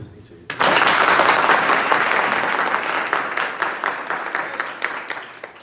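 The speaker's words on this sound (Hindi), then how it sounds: "यहाँ ताली बजनी चाहिए।" A seminar audience bursts into loud, sustained applause with many hands clapping together, swelling quickly and then thinning into scattered claps toward the end.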